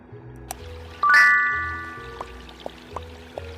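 Tap water running over dishes being washed in a home kitchen, a short pouring gush that swells and trails off, with light clinks of utensils around it.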